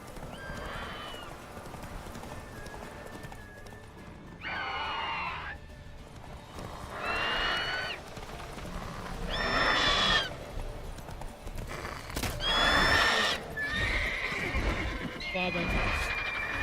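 In The Witcher 3, Geralt's horse Roach gallops with a steady clip-clop of hooves, and the horse gives several loud, repeated neighs. A voice talks over the hoofbeats at times.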